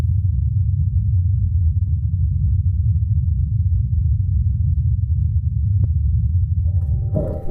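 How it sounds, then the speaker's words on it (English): The Ingenuity helicopter flying on Mars gives off a continuous low, droning hum that holds steady throughout, with a faint click and brief higher noise near the end. "And this is a recording of the Ingenuity helicopter in flight."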